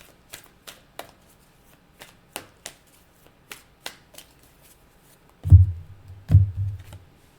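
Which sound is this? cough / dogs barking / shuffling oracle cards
shuffling oracle cards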